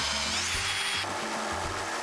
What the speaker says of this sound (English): More drilling, more jigsaw.